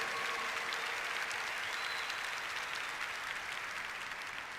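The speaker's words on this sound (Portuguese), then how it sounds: "Vamos aplaudir para valer o Espírito Santo" A church congregation applauding together, steady dense clapping that stays even and fairly loud for several seconds with no gaps.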